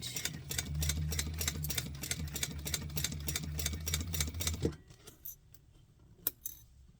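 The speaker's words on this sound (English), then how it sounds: "we're just sewing the tops together here, tops of the pocket" A sewing machine stitching the tops of a pocket together, running in a fast, even mechanical rhythm for several seconds before stopping, followed by a few scattered clicks.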